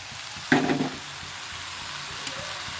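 Small mola fish fry in hot oil with a constant crackling hiss. A short burst of louder stirring and spattering comes early, then settles back into an even sizzle.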